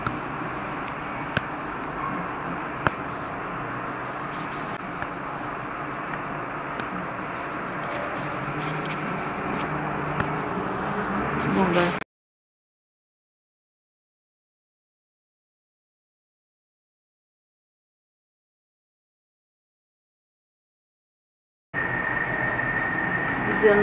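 Steady outdoor street traffic rumble and hiss in São Vicente, São Paulo, at dusk fills the first half, then cuts to silence before the same wash of passing vehicles returns briefly.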